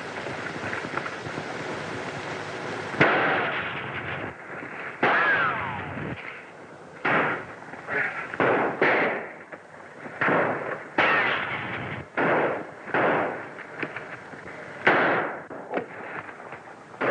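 Gunfire in a battle on an island siege, with a dense opening volley followed by a string of separate sharp shots and bursts in an irregular rhythm.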